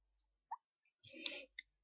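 A few faint, crisp computer mouse clicks tap out in near silence, one single click followed by a quick cluster of soft clicks.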